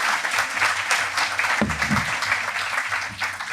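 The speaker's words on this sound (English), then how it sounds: "One more quick round of applause for Beth." Brief applause from an audience at a talk in a brewery, thanking a presenter named Beth; steady, moderately loud clapping with a low thump partway through.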